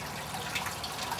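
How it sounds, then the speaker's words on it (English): Water flows naturally out of an aquaponics tank without a pump, a short burst of close splashing and gurgling with small drips and bubbles over a steady rush. "watch it blow out. And that is not pumped, that is actually natural flow of water."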